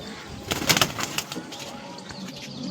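Malbai and Panjabi pigeons let loose at a home pigeon sale, giving a brief flurry of flapping wing beats at close range, fairly soft, with faint low background sounds.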